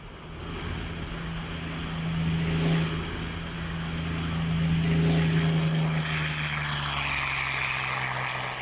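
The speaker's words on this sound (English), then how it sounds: "One of the results was this aircraft, the Yak-3." A Yak-3 propeller fighter plane drones steadily with a sustained engine hum and airy rush that swells and fades gently, with no voices present.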